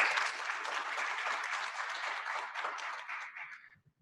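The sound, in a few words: audience applause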